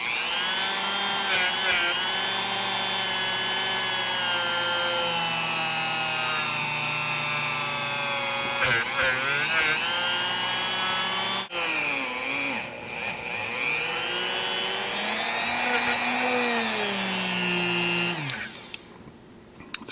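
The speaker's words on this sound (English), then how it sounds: "I just want to polish that just with the Dremel" A Dremel rotary tool polishing a Smith & Wesson third-generation pistol barrel, a loud continuous high whine whose pitch dips and rises as pressure changes, running close for about eighteen seconds before cutting off.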